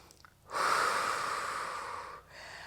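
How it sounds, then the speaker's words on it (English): A single long exhale through the mouth during a low-impact Pilates core workout, breathy and steady for nearly two seconds, close and fairly soft with no talking. "breathing in through the nose and out through the mouth"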